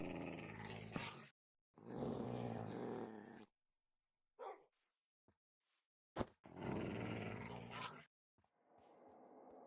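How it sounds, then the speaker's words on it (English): Dogs in a modded survival video game growl in short, loud bursts separated by silence, with a few faint brief clicks and noises between them. "Why are you growling? You're also incredibly loud for dogs."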